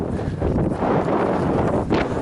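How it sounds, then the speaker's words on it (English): Strong wind buffeting the microphone near Forester Pass on the Pacific Crest Trail, a loud rough roar with gusty surges and no speech. "It's a little windy"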